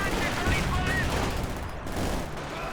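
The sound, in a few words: machine gun firing in video game Company of Heroes 2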